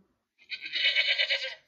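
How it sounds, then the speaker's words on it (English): A goat gives a single drawn-out bleat, close and clear, with a wavering tremble over about a second against silence. "A goat goes."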